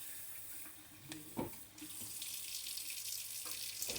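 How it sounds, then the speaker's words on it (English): Tap water runs steadily into a kitchen sink during a rinse, a continuous hiss with a few brief clunks and splashes of dishes or hands moving in the basin, close and moderately loud, with no talking. "going to rinse out my sink"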